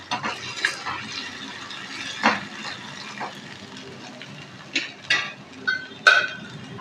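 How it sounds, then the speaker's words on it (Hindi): Onions and cumin seeds frying in a pan as a utensil stirs them, giving soft sizzling beneath sharp intermittent scrapes and clinks of metal on the pan, close and moderately quiet. "इसको थोड़ा सा फ्राई करेंगे ताकि हमारा ज़ीरा भी जो है वो इसमें फ्राई हो जाए"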